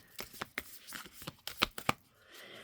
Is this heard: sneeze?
no